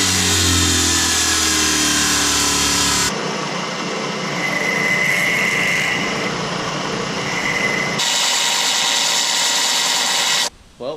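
A power tool trims ejector pins for a plastic injection mold, running loud and steady in close range with abrupt changes in pitch and load as cutting starts and stops, ending in a sudden cutoff.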